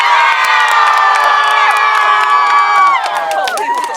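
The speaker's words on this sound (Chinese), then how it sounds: "再大声一点，尖叫声！" An outdoor seaside concert crowd screams at full volume in a long, sustained, high-pitched roar with shrill whoops on top, easing slightly toward the end.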